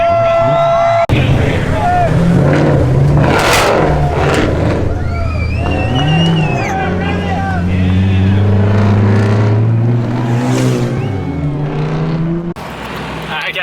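Toyota Supra MkIV engine revving at a burnout contest, loud and sustained with rising and falling pitch, crowd noise and voices mixed in throughout, cutting off near the end.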